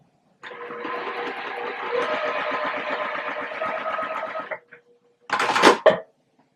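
A sewing machine stitches quilt fabric for a block: a close, steady mechanical whir runs for about four seconds, then stops, followed by a brief burst of fabric rustle.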